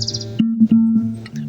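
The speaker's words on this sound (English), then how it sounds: "far to listen to the birds sing." Birds sing in a short passage, bright high chirps near the start and a few scattered tweets later, heard over a steady low tonal hum.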